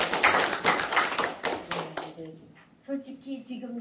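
A brief burst of audience applause at a literary talk event, dense clapping for about two seconds that stops abruptly before a voice resumes speaking.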